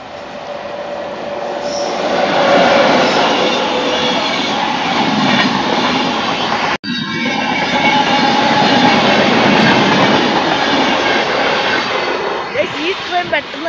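The Malabar Express train rolls past at a station, a loud, sustained rumble of wheels and carriages with clattering and a brief squeal, while people talk nearby.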